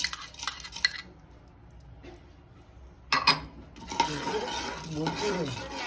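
Edible gum (gond) roasts in ghee as a spoon stirs it in a pan, with intermittent metallic scrapes and clinks, a quiet pause, then a busier stretch of stirring over a faint sizzle.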